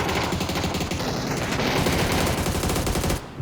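Rapid, loud gunfire crackles from all sides in a video game clan championship match, with dense overlapping automatic bursts that run almost without a break and cut off near the end.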